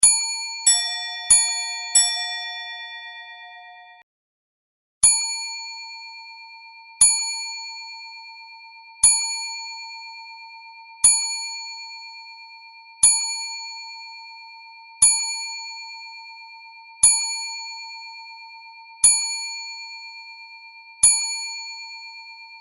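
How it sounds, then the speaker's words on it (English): A chiming clock with quarter-hour chimes rings a quick run of clear bell tones, then after a brief pause strikes a series of single evenly spaced dings that each ring out and decay, alone and fairly loud. "The fourth quarter chime is a different single chime to get you ready to count the following hour chimes."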